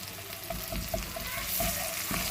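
Fish gravy sizzles in a pan while being stirred, with a soft, continuous frying hiss broken by light scraping strokes of the spoon.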